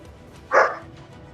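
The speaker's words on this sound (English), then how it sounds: "That's Buddy the Wonder Pup in the background letting us know that he's still here too" A small dog barks once in the background during a live talk show, a single short, moderately loud bark over a quiet room.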